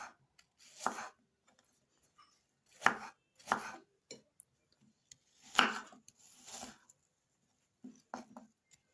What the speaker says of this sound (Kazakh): Алмаларды ондай сақтамай тураймыз.